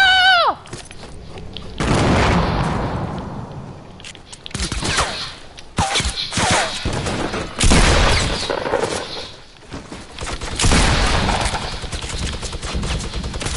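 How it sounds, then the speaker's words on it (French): Gunfire in the video game Fortnite: repeated bursts of sharp, loud shots and rapid volleys in several clusters over the stretch, with booming impacts and brief lulls between, and players talking over some of it. "Tire, voilà, on tire"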